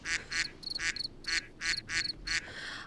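Ducks or geese quack in a quick, uneven run of about eight loud, nasal calls, close by and clear, with no talking over them.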